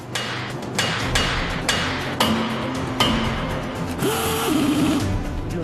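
A Corvette ZR1 crankshaft is tapped into its bearings with a series of sharp knocks spaced about a second apart, heard over a constant workshop hum with a brief machine whine near the end.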